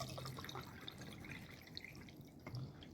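Water pours into a glass with soft, faint trickling and scattered drips, heard alone without talking.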